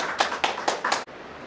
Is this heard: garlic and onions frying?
no